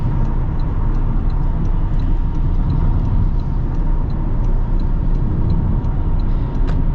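Steady road noise and low engine hum from a fifth-generation Toyota Camry hybrid on the move, a constant near rumble with faint tire and wind sounds and no talking.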